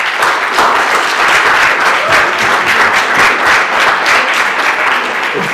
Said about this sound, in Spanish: Así que por favor, recíbenlo con un gran aplauso